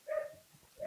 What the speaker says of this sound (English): sorry about the idiot dog in the background here